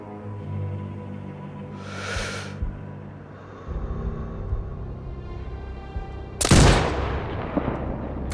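A sniper rifle in Sniper Ghost Warrior Contracts 2 fires a single loud, sharp shot late in a quiet stretch, preceded by a soft breath-like rush and low ambient hum.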